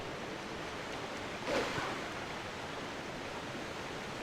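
A waterfall in the video game Twilight Princess, near Lake Hylia and Zora's Domain, roars as a steady broadband rush of falling water, with a brief louder surge partway through and no voices.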